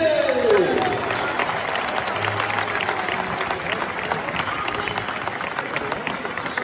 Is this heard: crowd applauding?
yes